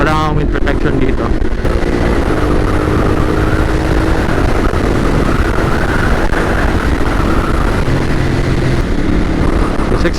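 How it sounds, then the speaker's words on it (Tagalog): A Ducati Hypermotard 950 RVE motorcycle cruises in sixth gear at about 100 km/h on a highway, its engine a steady loud drone buried in heavy wind rush across the whole stretch. "Sixth gear, top gear, and this is the RPM it cruises in for 100 kilometers per hour."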